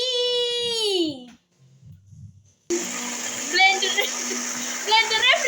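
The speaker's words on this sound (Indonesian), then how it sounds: "Blendernya berisik." A kitchen blender grinds spices in a loud, steady whir that starts abruptly after a short quiet gap, while a voice and another speaker are heard over and before the motor noise.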